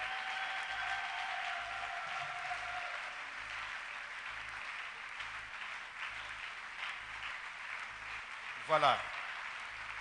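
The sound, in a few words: congregation applauding loudly to acclaim the Lord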